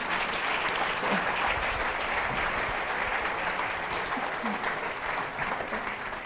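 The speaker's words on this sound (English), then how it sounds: "giving a big round of applause to our panelists" A big round of applause for the panelists at a forum, sustained, even clapping from a large crowd, heard at a distance with faint voices underneath.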